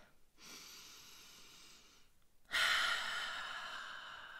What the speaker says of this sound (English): One more time, in your nose and out your mouth. Deep in and deep out.